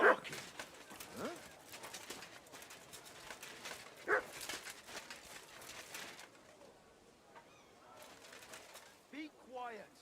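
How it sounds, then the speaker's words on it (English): A dog barks in the medieval open-world game Kingdom Come: Deliverance 2, intermittent short barks amid ambient birdsong and cooing. "Who are you barking at?"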